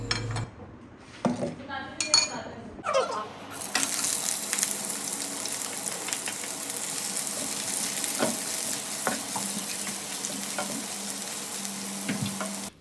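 Onions sizzle steadily in a hot pan, a bright continuous frying hiss that starts abruptly after a few clinks of utensils and pans, with occasional spoon scrapes and taps over it.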